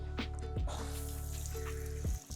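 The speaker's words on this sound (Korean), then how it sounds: "이렇게 샤워기로 물을 적셔줍니다." Water streams from a shower head onto an inside-out wig, a steady lukewarm spray hissing and splashing continuously with a few brief clunks, close and alone without talk.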